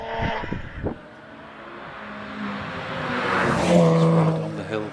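Porsche Boxster S racing up the Harewood hillclimb in the Porsche Speed Championship, its engine note rising and swelling as it approaches, with a commentator speaking over the run.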